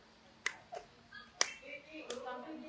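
A stroke therapy patient pats her own body with her hand, four separate soft slaps spaced unevenly in a quiet room, close and fairly faint.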